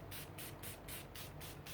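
Green spray paint hisses from an aerosol can in a quick series of about seven short rhythmic bursts, close and fairly faint.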